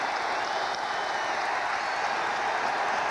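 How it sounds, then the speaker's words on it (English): A steady, loud wall of stadium crowd noise at the Saints-Giants football game, a sustained roar of cheering and clapping that holds at an even level throughout with no break. "They started waving their arms, and the crowd came alive."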